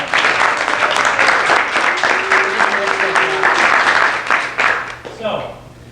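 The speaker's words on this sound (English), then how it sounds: "Let's give our 3 teams another round of applause." An audience at a Startup Weekend demo day applauds three teams, with loud, continuous clapping that fades near the end, while a brief tone and a voice sound faintly underneath.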